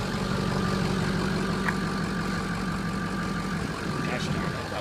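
A 2005 Ford F350 King Ranch 4x4 pickup idles with a steady low engine rumble, close and constant, with a faint brief click from the parking brake release partway through.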